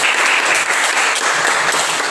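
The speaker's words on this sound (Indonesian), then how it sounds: "Tepuk tangan untuk teman saya." A classroom of students claps together in a dense, steady round of applause, loud and sustained with no pauses.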